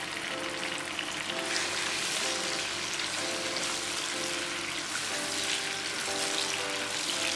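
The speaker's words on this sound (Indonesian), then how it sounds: "Kita tumis sampai dia wangi dan harum." Chili, tomato and shallots sauté in a pan, giving a steady, dense sizzle and crackle that continues without a break. A faint repeating tone sits underneath, and no one speaks.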